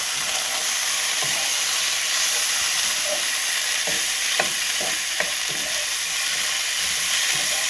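Spicy quail stir-fries in a hot pan for Cambodian cha kreung kruch, a loud, steady sizzle and hiss broken by scattered scraping clicks of the utensil stirring the meat.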